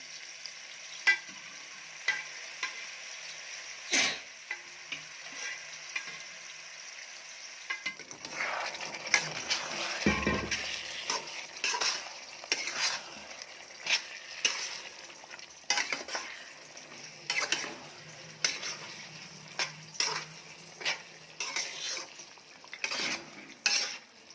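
Cooked mutton is stirred into roasted masala gravy in a pan for Kolhapuri mutton rassa, with steady sizzling and frequent scraping, clinking spoon strokes, close and alone.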